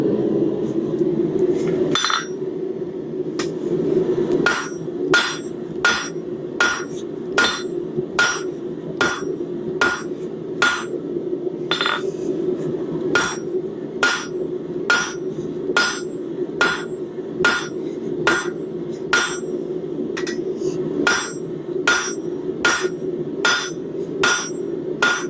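A metal hammer strikes material on an anvil in a long series of sharp, ringing, evenly spaced blows, close and loud, with a brief pause early on and no talking.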